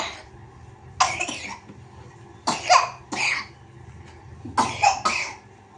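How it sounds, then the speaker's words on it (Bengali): A child coughs in three clusters of two or three harsh bursts each, close and fairly loud, with quiet pauses between them and no talking. "কাশি হচ্ছে কেসে দেখাও তো কেসে দেখাও একবার"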